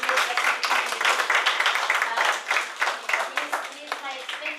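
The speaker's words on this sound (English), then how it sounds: "I'm going to give Chris a big round of applause" Big round of applause from a community gathering for a helper named Chris, a dense, steady spatter of many hands clapping throughout, moderately loud and fading slightly toward the end.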